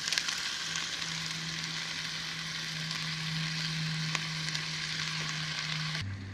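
Browned ground turkey and canned diced tomatoes sizzle in a pan on a camp stove in a van, a steady, fairly quiet hiss alongside a low hum, with a couple of small clicks and no speech.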